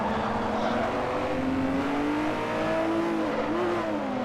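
Race cars braking and cornering on a circuit in Forza Motorsport 4, with a loud continuous engine whine that rises and dips in pitch through the turns, close and unbroken.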